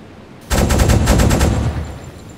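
An anti-aircraft gun on a U-boat fires in a video game: a loud burst of about eight rapid shots starting abruptly, then a short decaying echo.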